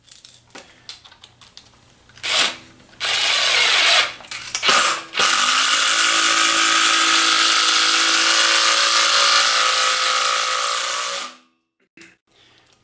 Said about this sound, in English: I'm going to use a 1-inch speed bore bit